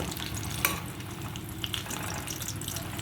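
Fish roe fritters frying in foaming oil, a dense, steady bubbling sizzle heard close up, with one brief clink near the start and no voices.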